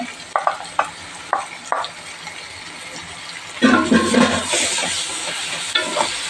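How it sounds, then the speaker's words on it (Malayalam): Chicken biryani masala is stirred in a pan with tomato being added, giving scraping, clattering strokes over a steady frying sizzle that grows louder and denser in the second half. "നന്നായിട്ട് ഇളക്കി കൊടുക്കാം ഇനി നമുക്ക് നമ്മുടെ തക്കാളി ചേർത്ത് കൊടുക്കാവേ"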